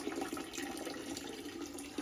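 Water pours steadily from a tipped bucket during wet processing of raw clay, a continuous close splashing rush with no talking.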